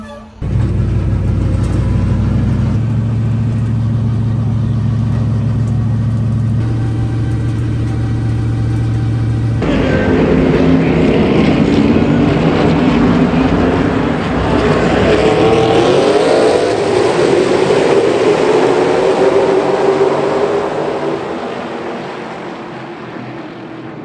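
NASCAR Xfinity Series race cars roar by in a droning engine pack, steady and loud, with rising and falling pitch as cars pass before the sound tapers off at the end.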